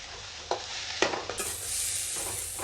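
Instant noodles (chow mein) are stir-fried in a pan, with a loud, steady sizzle broken by a few sharp scraping stirs of a utensil against the pan, growing brighter partway through.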